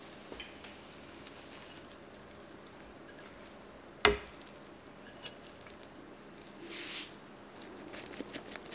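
Eggs frying in a pan, a faint steady sizzle throughout with one sharp knock near the middle and a brief hiss later, no talk.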